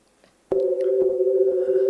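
A microtonal sound rendering of Munch's painting The Scream, a sudden steady electronic tone made of two close pitches that sounds like a telephone tone, holding flat and loud after a short quiet start.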